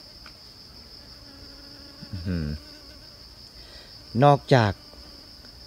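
Bees buzz around flowering coffee plants in a forest garden, a thin constant hum carrying throughout while someone speaks in short bursts nearby.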